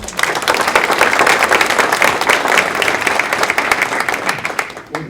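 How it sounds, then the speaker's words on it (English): A room of people at a citizen-of-the-month recognition gives a man a hand, a loud, dense burst of continuous clapping that holds steady for several seconds before tapering off at the end. "Let's give Dave a hand."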